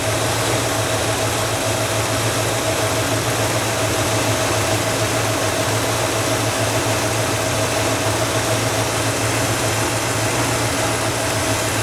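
A 1967 Cadillac Eldorado with a new battery, split fire plugs and wires, and its original exhaust manifold idles steadily. The engine drone is loud and unbroken throughout, with no voices.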